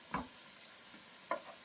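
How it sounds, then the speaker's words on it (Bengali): Drumstick flower fritters fry in oil with a soft, faint sizzle, broken by two brief clattering scrapes as the fritters are flipped in the pan. "এইভাবে আমি সবগুলোকেই উল্টিয়ে দিচ্ছি। আমার কিন্তু বড়াগুলো ভাজা হয়ে গেল।"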